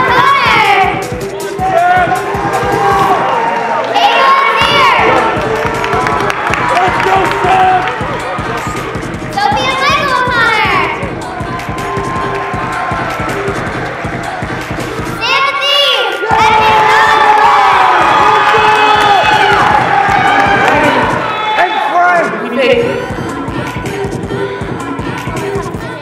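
An audience at a holiday event cheers and shouts for a sweater contest winner, a lively crowd roar rising in waves with children's voices mixed in and talk between bursts.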